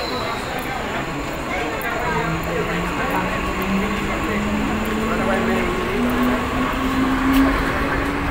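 A train pulling out of Shelu station makes a steady low rumble with a rising motor whine, heard from the platform amid ambient noise.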